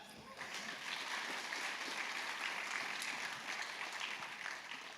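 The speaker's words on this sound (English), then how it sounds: "Let's clap." Audience at a tech panel discussion on React 19 breaks into sustained applause, a dense even wash of clapping that swells quickly and carries on for several seconds, moderately loud and filling the room.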